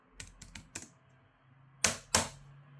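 Several light, quick keystrokes on an Arteck Bluetooth portable keyboard, followed after a pause by two louder, sharper clacks, all close and with no talking.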